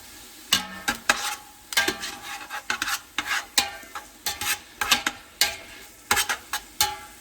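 Broccoli rabe wilting down in a big pot for a Philadelphia pork sandwich, tossed with tongs: a steady close sizzle broken by repeated, uneven clattering bursts of metal against the pot, with no talking.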